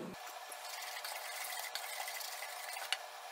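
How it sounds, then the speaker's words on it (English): A whisk scraping and stirring baking powder, salt and other dry ingredients in a bowl, a steady soft rustling swish with a few light clinks, close and alone. "we're going to whisk those all together"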